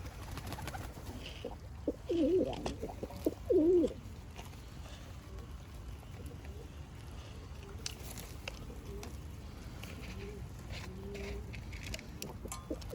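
Dolapçı pigeons cooing in a loft, a couple of soft coos near the start amid faint rustling and quiet room noise.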